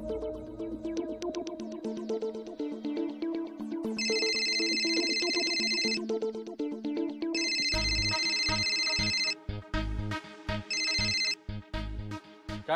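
An outgoing phone call rings out as a repeating electronic ringtone in regular bursts, heard over background music in a Marathi TV serial scene.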